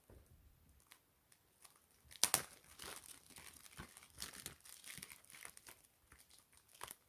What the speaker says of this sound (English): I have my scissors here, and then we're gonna crack this Blu-ray open